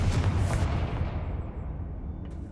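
A Confringo fire spell blast from Hogwarts Legacy bursts loud and close, then leaves a broad rumbling roar that slowly fades.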